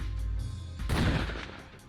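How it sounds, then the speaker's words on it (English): In the video game Root Double, a character fires a gunshot into the ceiling, a single loud, close blast with a broad burst that rings out and decays over roughly a second, following a low rumbling ambience. "The researcher's words were interrupted by a gunshot."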